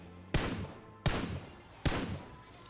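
Three loud single gunshots ring out in PUBG Mobile, evenly spaced under a second apart, each a sharp crack followed by a short echoing tail.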